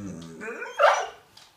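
A nine-month-old American Staffordshire terrier gives one loud, close bark on command, preceded by a short growling whine and followed by quiet.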